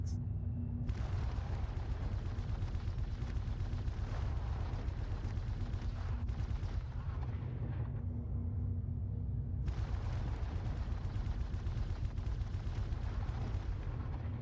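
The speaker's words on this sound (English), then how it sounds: "they've also added a different audio sound to the weapon firing" Ship turret weapons firing in rapid sustained bursts in a space video game, pre-patch, with dense continuous booming shots, a brief lull around the middle, then the fire resuming loud and close.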